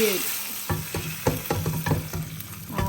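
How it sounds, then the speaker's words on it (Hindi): Hot tadka tempering sizzles as it is poured into salted moong lentil dal, a crackling fry with sharp spattering pops and stirring clinks, close and loud, with no talk. "अभी मैं डालने वाली हूँ अपनी दाल के अंदर एक ज़बरदस्त सा तड़का"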